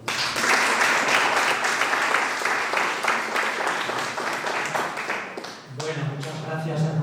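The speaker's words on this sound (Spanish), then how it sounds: "que entiendo que menos que este fuerte aplauso" Loud, sustained applause from an audience at a public lecture session of a local history conference in Azagra, dense clapping filling the room for several seconds before thinning out as a voice and other sounds take over near the end.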